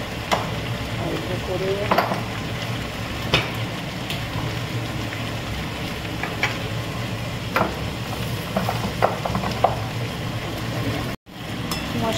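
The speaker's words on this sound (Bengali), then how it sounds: "কুমড়ো ভেন্ডি ভাজা হচ্ছে নিরামিষ" Pumpkin and okra fry with spices in a pan, giving a steady, close crackling sizzle throughout, with occasional stirring knocks. A voice speaks briefly.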